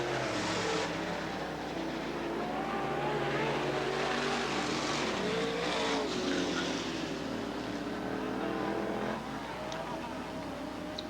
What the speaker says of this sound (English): Hopper and Blanchard battling down the backstretch